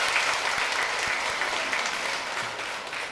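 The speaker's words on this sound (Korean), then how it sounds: "우리 박수로 하나님께 영광하겠습니다." A church congregation applauds steadily throughout a Sunday worship service, a dense, even patter of many hands at close range with no voices over it.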